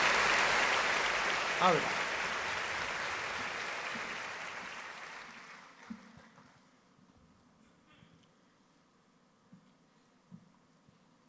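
Applause from a kavi sammelan audience in Bhopal swells loudly at first, then fades away over several seconds, leaving a quiet hall with scattered faint knocks while a voice briefly speaks.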